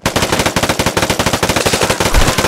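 Rapid automatic gunfire from a gun in a video game, a loud, steady burst of closely spaced shots running the whole time with a heavier thump near the end.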